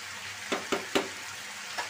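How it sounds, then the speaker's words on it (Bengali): A potato dish fries in a pan with a faint, steady sizzle, broken by four sharp stirring clacks spaced unevenly across two seconds. "আমার বটবটি ভাজি হয়ে গেছে"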